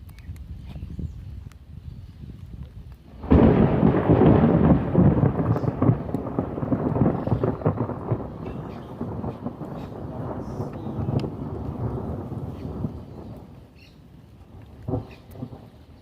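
Heavy rain with thunder at a fishing spot by a floodgate: a sudden loud roar of rain and rumble starts a few seconds in and holds steady, easing slightly toward the end, with no voices.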